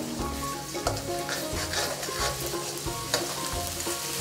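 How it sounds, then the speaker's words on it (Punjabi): Ground ginger frying in a pan with onion, garlic and green chilli for Punjabi masala chana daal, a steady close sizzle with rhythmic stirring scrapes throughout. "ਨਾਲ ਹੀ ਆਪਾਂ ਪਾਵਾਂਗੇ ਪੀਸਿਆ ਹੋਇਆ ਅਦਰਕ"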